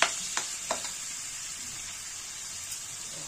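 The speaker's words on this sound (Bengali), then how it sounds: "এখানে আমাদের যতক্ষণ চিংড়ি মাছটা ভাজা হচ্ছে" Prawns fry in a pan with a steady, close sizzle and crackle. A few light utensil clicks sound near the start, then the hiss runs on evenly without voices.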